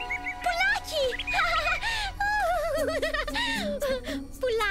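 A cartoon bird gives a run of bright, warbling chirps and trills that rise and fall in pitch. The calls sound close and fairly loud, and voices and other cartoon sounds mix in around them.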